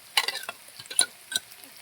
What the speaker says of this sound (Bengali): পেঁয়াজটা লাল লাল ভাজা হয়ে যাবে। মশলাটা মিক্সড মশলাটা দিয়ে দেবো।